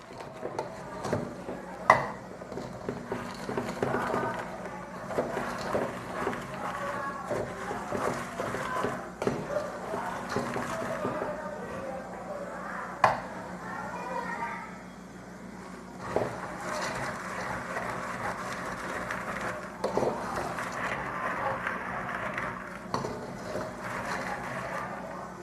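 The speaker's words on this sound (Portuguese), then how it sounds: "Continue mexendo e passando o amendoim nesse caramelo que forma no fundo da panela" Peanuts being stirred through melting sugar caramel in a pan, a steady scraping and rattling that carries on for the whole stretch, with a few sharper knocks against the pot.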